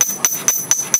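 Hammer striking a copper spatula on an anvil during forging, five sharp ringing metallic blows at an even quick rhythm, close and loud, with no talking.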